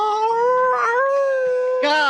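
A dog howls at midnight, a long sustained wavering howl with rising and falling pitch, loud and close, ending with a brighter yelping burst.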